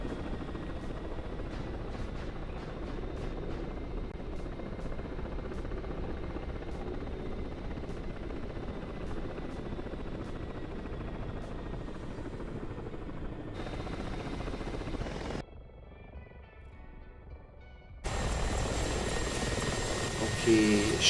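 An Mi-24 attack helicopter roars steadily in a competition flight game, its rotor thrum loud and constant throughout, dropping briefly before surging back up near the end.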